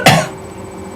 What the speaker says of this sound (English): You coughed in my ear.